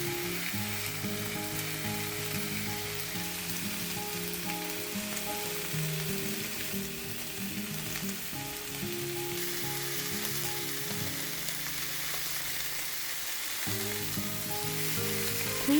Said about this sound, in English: Fry on high heat 12 minutes until nicely browned. Sear on all sides.